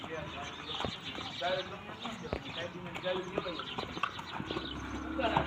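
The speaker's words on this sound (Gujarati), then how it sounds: "ઘરે જઈ રહ્યા છે ઘોડે સવારી કરીને" A mare carries a rider home, her hooves clip-clopping in a steady, fairly faint rhythm outdoors while a person talks over them.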